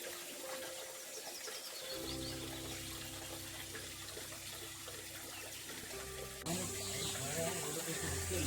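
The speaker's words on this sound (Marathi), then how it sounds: "मस्त असं एकदम थंडगार आणि शुद्ध असं पाणी आहे" Cold spring water flows at Dahibav village near Rajapur in the Konkan, making a steady close rush and trickle with faint birdsong, briefly under a voice and growing louder near the end.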